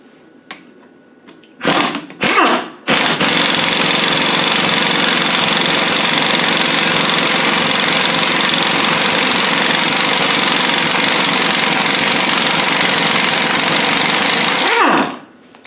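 An impact gun hammers loudly on the extension housing of an R380 gearbox being overhauled, a continuous dense rattling burst lasting about twelve seconds after a few short blips, then stopping abruptly.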